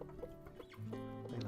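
Chickens cluck close by in a breezy outdoor spot where rice is being scattered, short throaty calls repeating under a person's soft talking.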